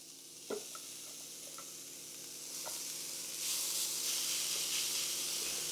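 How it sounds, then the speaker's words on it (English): Walnut-based vegan ground beef sizzles in an oiled pan over low-medium heat. A steady hiss swells louder partway through, with a few light clinks of stirring early on. "time to start putting the walnut ground beef into the pan"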